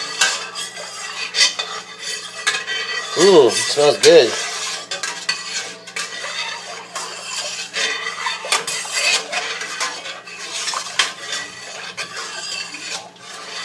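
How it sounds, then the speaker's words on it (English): A utensil scrapes and clinks around a pot of sugar-dissolved homebrew beer liquid in steady stirring strokes, with a louder stretch in the middle; a voice briefly speaks over it. "We're going to get this well stirred."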